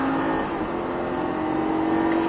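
Lamborghini Gallardo LP-560 V10 at full throttle, a steady loud engine drone with whirring, held at near-constant pitch and rising slightly at the end.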